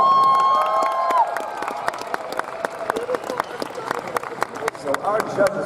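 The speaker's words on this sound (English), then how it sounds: "Give yourselves a round of applause." An audience at a comedy show at Anime Expo 2016 breaks into applause, with scattered sharp claps building into denser clapping and some cheering. A voice talks over the start.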